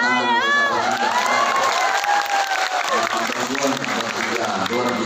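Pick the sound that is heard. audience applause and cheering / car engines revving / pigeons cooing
audience applause and cheering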